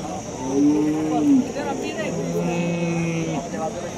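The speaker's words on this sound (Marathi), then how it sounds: "असं गाय बाजार भरलेला आहे" Cattle lowing at the crowded Vadod cow market in Maharashtra, a long drawn-out moo followed by another lower call, heard nearby over steady market crowd noise.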